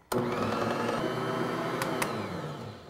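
A food processor kneads pizza dough, its motor starting abruptly and running as a steady, loud whir with a low rumbling churn of the dough ball, holding continuously for about three seconds.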